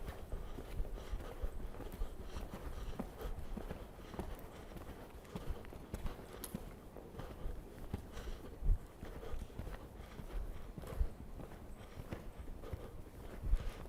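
Horse hooves thudding in a steady rhythmic canter on soft arena ground, continuous and moderately near, with faint background noise.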